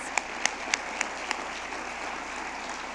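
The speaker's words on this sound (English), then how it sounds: "Please join me in giving Pat Kern another well-deserved round of applause" Audience applause at a college foundation dinner: a steady wash of clapping with a few sharper, distinct claps standing out near the start, then evening out into an even, moderately loud patter.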